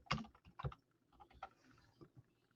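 Typing on a computer keyboard, a short burst of close, quiet key clicks in an uneven rhythm, a few stronger taps up front, then lighter keystrokes fading out, no speech.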